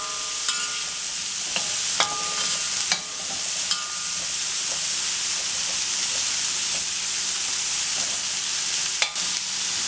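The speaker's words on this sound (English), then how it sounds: "We'll just fry them off for a little bit longer." Mixed vegetables fry in a pan for a veggie stir fry, giving a constant bright sizzle at moderate volume, broken by a few sharp clicks and taps from the utensil.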